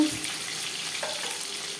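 Chital fish fries in hot oil, giving a steady, close hiss of sizzling throughout with no other sounds.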